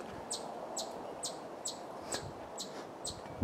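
A small bird chirps repeatedly in a steady rhythm, short high tweets about every half second over a soft outdoor hiss.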